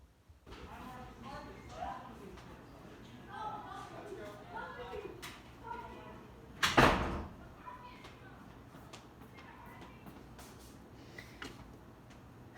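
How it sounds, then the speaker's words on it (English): A door shuts indoors in a sculpting workspace, one solid thud partway through while a person talks quietly before and after over faint outside noise. "Let me close the door."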